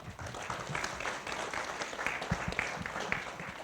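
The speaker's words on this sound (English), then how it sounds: "round of applause for John" Audience applause at a candidate forum, a soft, steady patter of clapping from a seated crowd heard at a distance and fairly quiet throughout.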